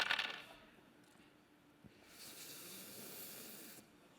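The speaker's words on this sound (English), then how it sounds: "Roll a big handful of dice." A big handful of dice rolled on a table during a live Dungeons & Dragons game at PAX East 2015: a quick faint clatter at the start, then a soft hiss of room noise.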